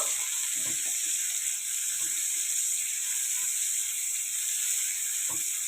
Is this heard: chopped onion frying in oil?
yes